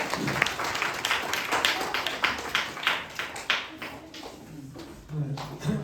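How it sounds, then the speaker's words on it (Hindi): A Republic Day celebration audience claps for a guest speaker: scattered, uneven hand claps from a modest crowd, rising and falling in bursts for several seconds, then a brief noisy shuffle at the close. "तो आर्य सर के लिए तालियां बजाने एक बार।"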